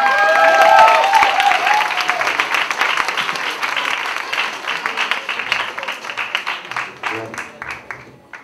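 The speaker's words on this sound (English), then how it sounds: "A hand of applause, please." A live audience claps for a speaker at a Kenyan event, the applause dense and loud at first and then thinning into scattered claps over several seconds, with a voice briefly audible at the start.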